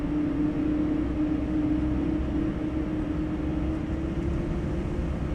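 Airbus A220 engines in a flight simulator, a steady, loud, droning roar with a constant tonal hum running underneath, unbroken and with no talking.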